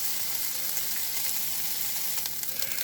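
Orange, ginger and garlic sizzle steadily in a hot pan for Chinese-style orange chicken, a close, continuous bright crackle and hiss with no talking.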